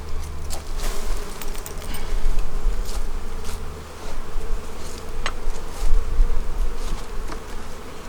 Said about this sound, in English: now we're gonna make some bees angry